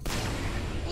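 A single sharp gunshot in Call of Duty World at War custom zombies on the Saloon map, fired close and loud, then a short booming tail that fades within a second.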